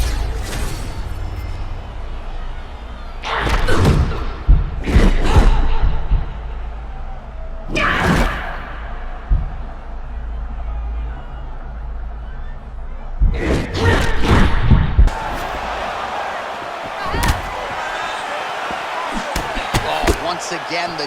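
Punches and hooks land in EA Sports UFC 6 during a Gillian Robertson vs Jessica Andrade bout: loud thudding impacts in several bursts, some clustered in quick flurries, with commentary voices talking between and over the strikes.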